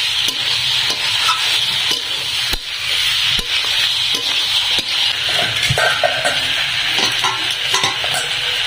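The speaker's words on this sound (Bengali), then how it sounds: "ডুমুরগুলো ভালো করে কষিয়ে নেব।" Figs stir-fried in a pan for a fig and shrimp dish, with a steady close sizzle and occasional scrapes and taps from a stirring utensil.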